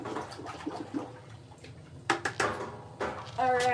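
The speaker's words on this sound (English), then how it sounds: "I'm gonna get a stirrer. Stir this bitch." A stirrer churns badly separated pottery glaze in a container, a close wet swishing and sloshing that builds in irregular strokes under occasional talk.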